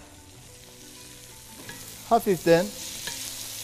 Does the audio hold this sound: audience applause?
no